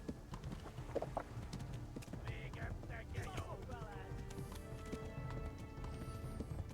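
Horse hooves clip-clopping at a run in the medieval game Kingdom Come: Deliverance, a steady rhythmic beat under ambient music and scattered voices.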